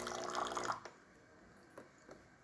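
Hot water streaming from a serviced Saeco espresso machine, a steady hissing pour that cuts off, then faint scattered drips in a quiet room.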